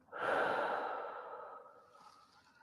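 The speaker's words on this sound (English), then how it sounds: "And breathe in. And breathe out." A single long, deep exhale flows out steadily and close up, fading gradually into a soft breath, with no talking over it.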